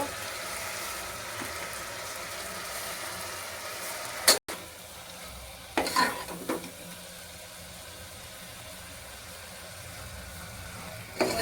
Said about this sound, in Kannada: ಇದರಲ್ಲಿರೋ ಕೈ ಅಂಶ ಹೋಗ್ಬೇಕಂದ್ರೆ ಇದನ್ನು ಕ್ಲೀನಾಗಿ ಫಸ್ಟ್ ಎಣ್ಣೆಲಿ ಹುರ್ಕೋಬೇಕು.